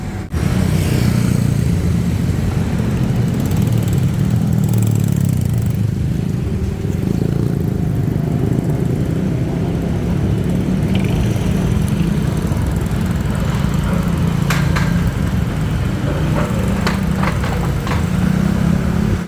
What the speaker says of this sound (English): Nice ride home on the electric motorbike, the Tesla motorbike.